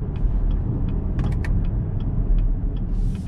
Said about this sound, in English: enjoy the sound of the exhaust